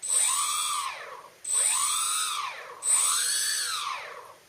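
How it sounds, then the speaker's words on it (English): Small electric quadcopter motors whine up and down in pitch three times in succession, a high rising-and-falling buzz, close and fairly loud. "So all the motors spin up"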